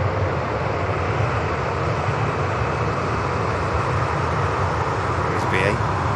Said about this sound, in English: the TUI taxiing out there.